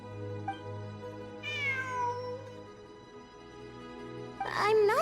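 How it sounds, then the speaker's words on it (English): A cat meows in Genshin Impact's Sumeru ruins exploration event, giving one drawn-out falling meow followed later by a louder, wavering cry at the end, heard over low ambient game music. "It really is a cat."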